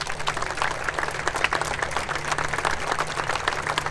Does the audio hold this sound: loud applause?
yes